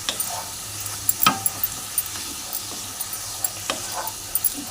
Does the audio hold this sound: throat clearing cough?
no